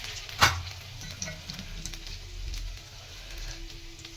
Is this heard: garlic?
yes